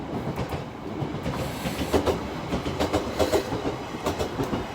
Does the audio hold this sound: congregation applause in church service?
no